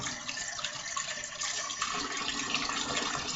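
Tap water runs steadily over a shaving brush knot as it is rinsed after a shave, a continuous broad splashing hiss with no talk over it.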